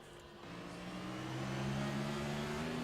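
A race car in an Auto Club Cup Series event downshifts, its mid-pitched engine note rising and whirring through the gears at a distance, fairly faint and steady with no talk.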